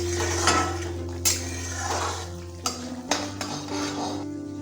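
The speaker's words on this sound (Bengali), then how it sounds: "সব কিছুকে ভালোভাবে মিশিয়ে নেব।" Tomato, onion, ginger and green chilli paste being mixed with salt, turmeric and Kashmiri chilli powder in a bowl for rui fish curry: scraping stirs and several sharp utensil clinks against the bowl.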